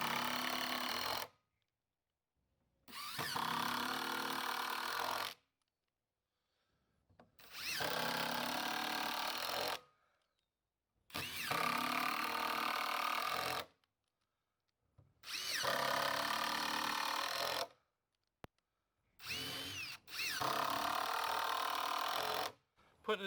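A power drill drives 2.5-inch screws into the wooden boards of a 12-foot raised garden bed, six loud bursts of whirring separated by short silences, with no talk.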